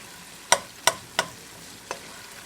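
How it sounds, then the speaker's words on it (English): Chicken pot pie filling being stirred in a pot: four sharp spoon knocks, three in quick succession and one later, over a faint background sizzle. "I'm going to give that a little stir."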